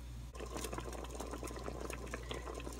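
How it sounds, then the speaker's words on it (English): Pot of pho with seitan and noodles simmering off the heat, giving a steady, dense bubbling and hissing that carries evenly throughout with no voices. "let it simmer for about 1 minute until the noodles are tender"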